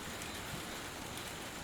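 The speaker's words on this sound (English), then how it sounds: "it can create rain like now" Steady, dense rain falls in the Amazon beside a river, an even wash of hiss without pauses and no voices.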